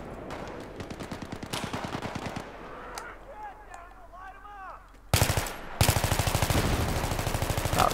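Gunfire in the video game Battlefield 3: rapid automatic bursts in several sustained volleys, close and loud, with a brief quieter stretch of chirping effects between them.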